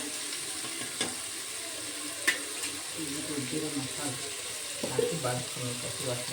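Palak spinach fries and wilts in a pan for palak rice, with a continuous sizzle broken by sharp clacks of stirring.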